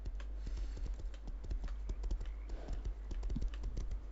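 Horse hooves clip-clopping in the survival game Rust, a steady close run of quick, light hoof taps continuing throughout with no talk.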